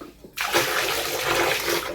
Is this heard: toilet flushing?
yes